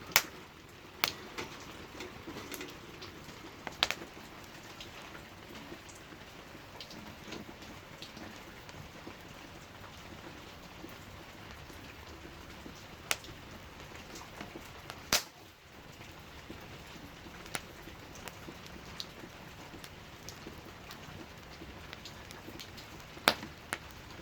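Steady rain falls at a countryside house on a rainy afternoon, a soft continuous patter with occasional louder drips tapping nearby, alone without talk.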